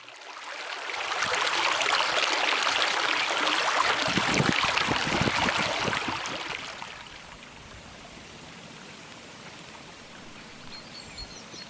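River water flows and rushes loudly over the first half, then drops back to a quieter trickle and murmur, with no voices.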